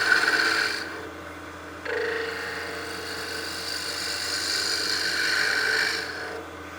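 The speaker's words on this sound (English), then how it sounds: "Anytime we're working with that skew, we want to make sure that bevel is engaged before we start our cut." Skew chisel cutting wood on a lathe while turning a mini mushroom Christmas ornament, a steady hissing rasp that starts, shifts pitch after a brief break and runs on continuously, close and fairly loud with no talk.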